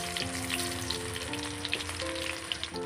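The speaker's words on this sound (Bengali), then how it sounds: "এখানে আলুগুলোকে অল্প করে একটু ভেজে নেব।" Potatoes fry in hot oil with a close, continuous sizzle and fine crackling, a low steady hum running underneath, and no talking.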